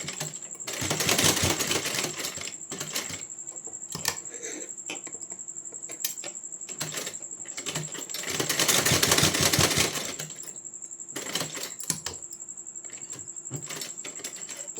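A sewing machine stitches a small dress for a Laddu Gopal idol, made from a straight strip of fabric. It gives rapid, close, typewriter-like clicking in two longer bursts with shorter runs and pauses between.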